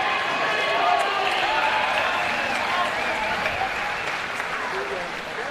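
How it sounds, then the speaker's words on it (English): A crowd at an Australian cycling race, the Ivanhoe Austral Wheelrace and elite Madison event, claps and cheers in a steady swell that eases slightly toward the end, with tonal voices over it. "you might have heard the crowd in the background there really getting up and about"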